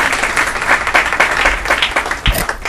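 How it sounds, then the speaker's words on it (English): Applause from an audience at a hall of fame induction ceremony, a dense, steady wash of clapping from many hands, fairly loud and sustained throughout. "Let's give him a round of applause."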